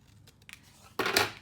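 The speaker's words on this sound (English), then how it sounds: "I'm just going to quickly cut that off with scissors" Scissors snip through paper during a craft project, a few faint clicks followed by one louder, close crisp cut.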